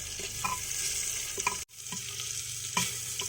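Carrots, beans and cucumber fry in oil in a pot for hotel-style sambar, giving a steady close sizzle with a few stirring clatters and one brief dropout partway through.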